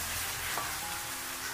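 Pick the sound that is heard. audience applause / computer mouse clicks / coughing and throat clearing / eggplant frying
eggplant frying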